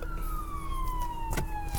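An ambulance siren wails with one long, steady tone that slowly glides downward, heard continuously at moderate distance over a noisy background, with a few brief clunks mixed in.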